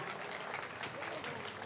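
Audience clapping at a church festival for Saint Anthony's annual feast in Nagarampalem, Guntur diocese, a brief, fairly quiet spatter of many hands with a faint voice underneath.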